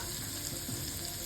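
Garlic sizzling in a small amount of hot oil, a steady close crackle and hiss of frying that runs evenly throughout without pauses.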